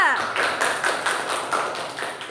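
A classroom of children claps for group 3 after their presentation in a school lesson. The clapping is fairly close and steady, with a voice carrying over it.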